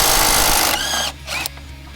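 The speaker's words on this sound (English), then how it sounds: "All right, so you grab your nice impact here." A power impact wrench works a brake caliper bolt on a Can-Am Outlander or Renegade ATV, giving a loud, steady mechanical whir for about a second before cutting out, followed by two short, fainter bursts.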